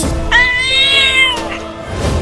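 A single loud, drawn-out cartoon cat meow, close and clear, rising and holding for about a second before fading.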